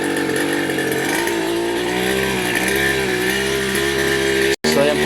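A new grass cutter runs with a loud, buzzing two-stroke engine whine held close for several seconds, its pitch wavering slightly, then cutting out abruptly for a moment before resuming.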